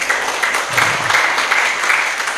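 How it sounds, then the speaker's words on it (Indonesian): An audience at a Buddhist dhamma talk claps together in a brief, moderately loud burst of applause that lasts a couple of seconds. "Tepuk tangan dong yang jawab."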